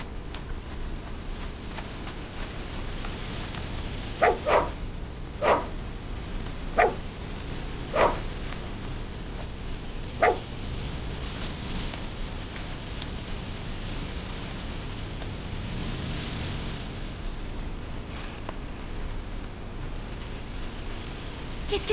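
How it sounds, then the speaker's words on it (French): A dog barks in short, separate bursts, about five or six yaps spread over a few seconds against a steady noisy background, with no one talking. "Tu as faim, mon chien Chounet?"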